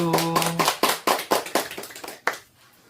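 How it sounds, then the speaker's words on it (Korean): A short burst of hand clapping from a small group of people, about ten quick claps that trail off within three seconds, close and without talk. "박수"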